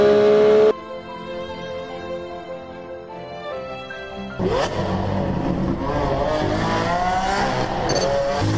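Triumph Daytona 675 R motorcycle: a loud burst, then a steady engine tone with clear harmonics that steps up in pitch, then a louder revving surge under throttle in the second half.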